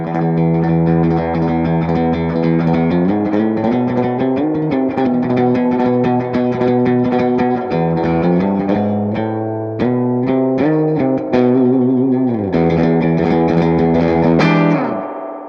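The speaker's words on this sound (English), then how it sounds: "with the reverb cranked almost the entire way up" A MESA/Boogie California Tweed 6V6 4:Forty head plays a clean guitar with its reverb turned almost all the way up. Loud, sustained chords and notes ring continuously with a long, washy tail and no talking.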